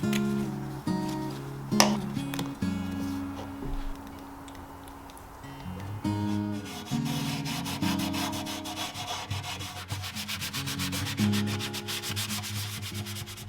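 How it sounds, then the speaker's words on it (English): Gentle hand sanding on the wood of a vintage 1960s mid-century modern credenza, a steady rubbing scrape that runs the whole time over a low background hum, and no one speaks. "I'll gently sand the areas where there will be friction"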